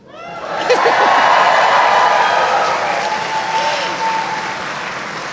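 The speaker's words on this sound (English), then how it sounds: "You can cheer." A large spring commencement audience breaks into loud applause and cheering that swells quickly and holds steady, with scattered whoops and laughter throughout.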